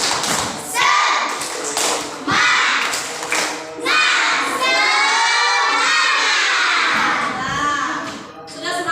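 A classroom of schoolchildren does rhythmic spirit clapping, bursts of sharp group claps mixed with loud shouted chanting from many young voices, with the clapping and shouting continuing together for several seconds.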